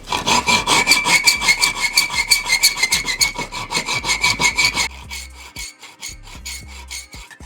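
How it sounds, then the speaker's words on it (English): A hacksaw cuts the tip off a threaded steel engine stud on an RB26 engine build with steady, rhythmic back-and-forth rasping strokes, loud and close, then slows into a few slower strokes. "then I like to use a hacksaw"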